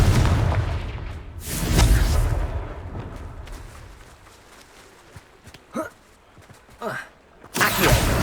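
Booming Confringo spell explosions in Hogwarts Legacy thud and rumble in several bursts, one large blast followed by smaller hits and a final loud burst.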